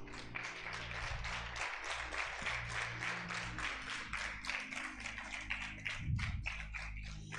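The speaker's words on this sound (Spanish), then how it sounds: "¿Puede dar un aplauso al Señor?" A church congregation claps together in praise, a steady run of sharp hand claps going on for several seconds, fairly soft and with no talk over it.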